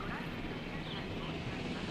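Helicopter in the video game Jurassic World Evolution, a steady droning rotor and engine hum that fills the short clip at constant loudness without breaks.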